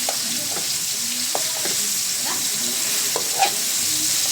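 Tomatoes are pressed and crushed in a simmering pot of sinigang sa miso. Soft, irregular scrapes and taps from a utensil sit over a steady bubbling hiss.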